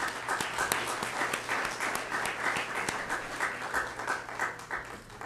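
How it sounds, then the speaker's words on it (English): Audience at a Yucca Valley Chamber candidate forum applauding steadily, a dense even wash of many hands clapping from start to finish with no voices over it. "How about another round of applause for the candidates?"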